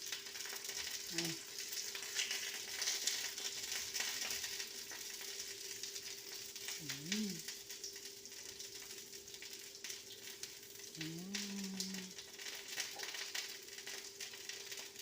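Okra frying in a pan of hot oil, giving a steady, faint sizzle throughout, with a few brief hums or voice-like tones over it.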